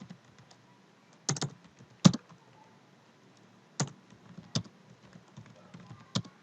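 Isolated computer keyboard key presses while working in Excel, holding the CTRL key: a handful of sharp clicks spaced irregularly, close and fairly quiet, with no speech over them.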